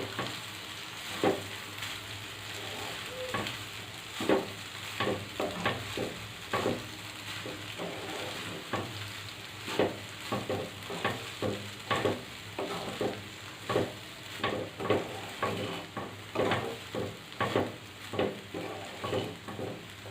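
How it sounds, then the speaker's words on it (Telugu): Cooked rice stirred into egg fried rice in a hot pan over high flame: a steady, even sizzle with rhythmic scraping strokes of the spatula repeating about every second, close and moderately quiet, with no voices. "మనం ఉడికించి పక్కన పెట్టుకున్న రైస్ ఇందులో వేసేయాలి అంతా కలిసేలా ఒకసారి కలుపుకున్నాము"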